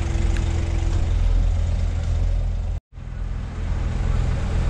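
Truck engine left idling while the driver waits in a queue for a ferry crossing, a steady low rumble held throughout with a brief dropout near the end.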